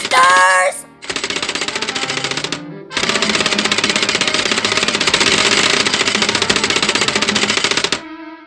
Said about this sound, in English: Eat laser, you prehistoric monsters!